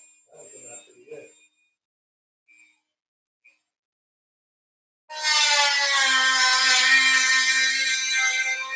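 After a few faint clicks and quiet moments, a power sander or grinder starts up and runs loudly and steadily with a high whine.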